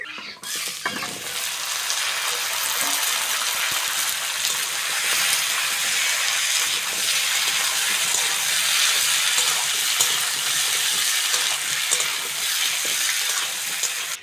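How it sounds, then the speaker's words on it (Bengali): Cut potatoes fry with chopped onions in hot oil in a pan for a Bengali fish curry, a loud, dense, continuous sizzle with stirring, steady from start to finish. "পেঁয়াজের সঙ্গে আলুটা ভালো করে ভেজে নিয়েছি।"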